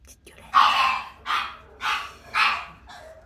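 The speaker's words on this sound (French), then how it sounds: "L'aboiement du carlin, c'est terrible." Newborn pug puppies give five short, high, close yips and barks in an uneven series, each separated by brief pauses.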